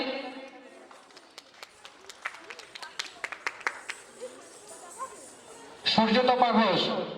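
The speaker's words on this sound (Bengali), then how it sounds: "হাততালি।" Audience applause at a certificate and medal ceremony for a children's dance, music and recitation board exam, a burst of scattered claps that thickens into fuller clapping near the end, over a talking voice.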